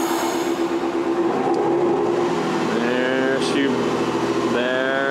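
Train rolling on rails as it arrives at Kutchan Station, a steady close rumble with rising squeals and tonal whines from the wheels and machinery, while voices talk over it.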